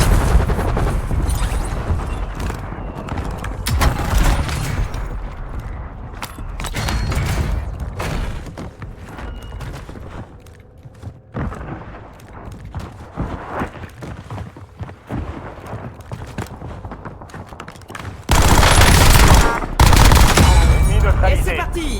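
Loud, close rapid bursts of automatic fire from an FFAR rifle in a shooter video game, with repeated volleys and a dense, heavier barrage near the end.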